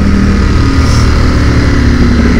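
A Ducati motorcycle engine rumbles steadily while riding on a highway, a loud continuous drone with wind noise and no talk.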